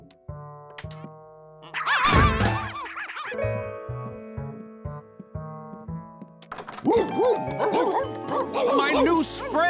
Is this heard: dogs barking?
yes